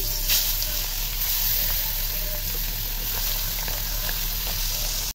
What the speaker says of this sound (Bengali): তো বেগুনের জন্য মাছটা ফ্রাই করে নেই।